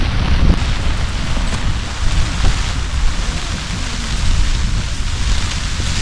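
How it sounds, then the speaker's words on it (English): A squally rain shower drums steadily on a Hilleberg Akto tent during a wild camp near Sheeps Tor on Dartmoor, a dense, continuous patter with gusty swells and no voices. "Oh, the rain."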